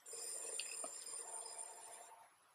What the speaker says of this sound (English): It's the house phone.